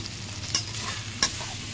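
Spice paste fries in released oil for a paneer and pea curry, a steady close sizzle with two sharp spatula scrapes as it is stirred.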